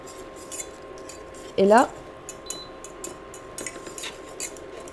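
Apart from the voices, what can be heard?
whisking flour into boiling choux pastry dough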